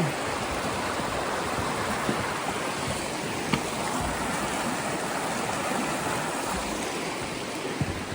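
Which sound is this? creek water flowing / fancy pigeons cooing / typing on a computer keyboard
creek water flowing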